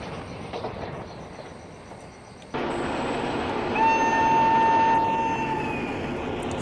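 A 12075 Kozhikode–Trivandrum Jan Shatabdi Express runs along the Kerala route at about 100 in a train simulator game: a steady rolling rumble steps up sharply partway through, then a long sustained horn-like tone sounds over it.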